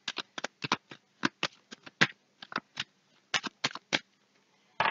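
Tarot cards being shuffled and drawn by hand, a series of quick dry riffling bursts in an irregular rhythm with short pauses between, close and clear with no talking.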